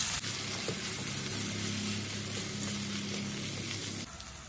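Squid and tempeh frying in a covered pan with tomato sauce and spices, giving a steady, dense sizzle that runs evenly throughout and drops slightly in level near the end.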